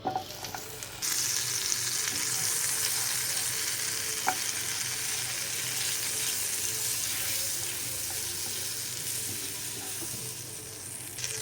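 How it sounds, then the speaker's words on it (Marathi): Butter sizzling in a hot pan, a continuous dense hiss that stays close and fairly loud from start to finish, with a brief utensil tap midway and no talk. "पॅन दवरला गरम जावपाक. थंयच म्हणजे कायल तापयलें आनी हांव आतां हितून बटर घातोलें."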